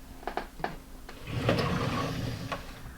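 A few light clicks and knocks, then a drawer slides open with a smooth rumbling scrape before a final tap.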